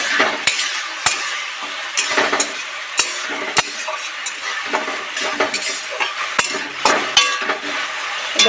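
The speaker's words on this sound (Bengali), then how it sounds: "চিংড়ি মাছগুলো আমরা খুব বেশি ভাজবো না, হালকা ভাজবো" Shrimp frying lightly in hot oil, a steady close sizzle with frequent sharp clinks and scrapes of a spatula stirring in the pan throughout, no voices.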